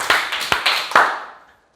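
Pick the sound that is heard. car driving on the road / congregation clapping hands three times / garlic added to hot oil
congregation clapping hands three times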